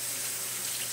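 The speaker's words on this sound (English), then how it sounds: "Wash this off real quick" Water runs steadily from a kitchen tap while a venison steak is rinsed under it, a close, even gush lasting about a second.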